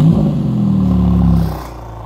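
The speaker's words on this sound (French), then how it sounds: "On va démarrer ce petit moteur." Porsche GT2 RS engine starting and revving, a close, loud mechanical roar with a rising then settling engine tone that drops off near the end.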